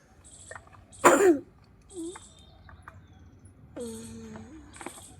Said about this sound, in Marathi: लगेच खोकला येतो